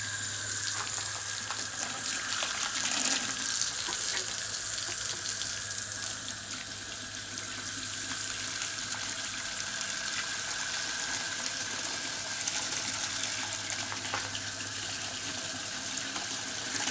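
Tap water runs steadily into a container to wet a block of coco coir, a continuous close splashing rush with a low hum underneath, lasting throughout without talk.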